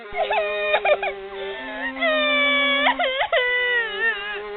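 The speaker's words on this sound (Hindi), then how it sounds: "उसे भी लड़की की रोने की आवाज़ सुनाई दी" A girl wails and cries in a horror story, a sustained high, wavering moan with sobbing breaks, loud and close throughout, with a low steady drone beneath.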